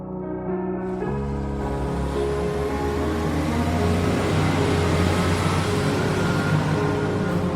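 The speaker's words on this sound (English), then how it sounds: "A car passed by." A car passes by outside an apartment, a steady, fairly loud engine and road rumble that swells in and holds for several seconds with no talk over it.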